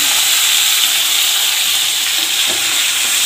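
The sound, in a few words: spice paste frying in hot oil with bay leaf, cinnamon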